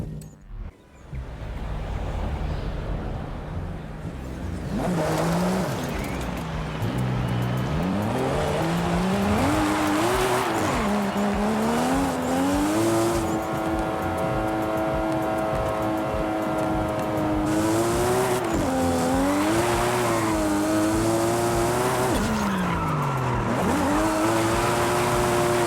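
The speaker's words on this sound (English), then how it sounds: "First thing you always want to know when drifting is wheel spin is good." A rear-wheel-drive car in Forza Horizon 5 revs hard and drifts with spinning wheels, its engine note climbing and dipping in long swoops over a constant roar of tire noise, loud and continuous.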